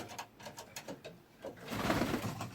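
An Andalusian pigeon cock coos softly in a short series of low, rhythmic coos, with a louder, breathier stretch toward the end, close by and with no talk.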